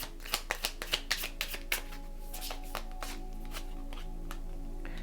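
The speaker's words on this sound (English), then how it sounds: "So we're going to get just a few more cards." Tarot cards are shuffled close by, a quick run of sharp riffling snaps followed by softer, irregular card flicks over a low steady hum.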